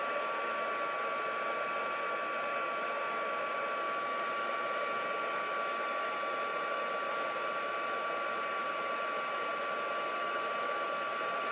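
A handheld heat tool blowing hot air to melt embossing powder on a ceramic ornament, a steady close whooshing drone with a faint constant tone, unbroken and alone.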